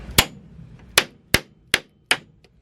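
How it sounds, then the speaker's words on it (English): A hammer strikes hard to force furniture pieces into place, five sharp separate whacks in an uneven rhythm, loud and close, with quiet between blows and no voices. "So you just have to whack it with a hammer."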